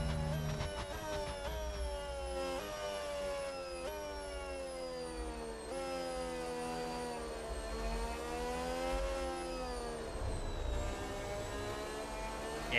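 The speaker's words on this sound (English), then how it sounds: "the overrun on the Red Bull engine sounds so good" Red Bull Formula 1 engine on overrun in the F1 26 racing game at the Chinese circuit, a high whining drone that rises and falls through gear changes and lift-offs, loud and continuous with no talk.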